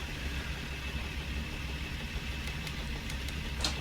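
A parked truck engine idles in American Truck Simulator, a faint, steady low rumble with a few small clicks near the end and no talking.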